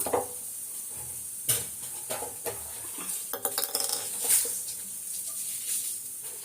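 A kadai (wok) is set on the stove to heat: scattered metallic clanks and knocks of cookware, close and fairly clear over a steady background hiss, with no talking.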